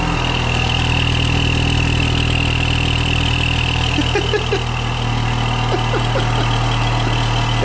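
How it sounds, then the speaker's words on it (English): A car fitted with a fake turbo whistle kit idles steadily nearby, a constant low engine drone with a thin whistling tone above it and a few faint chirps partway through, with no talking. "let's fire up the car and see what the whistle sounds like"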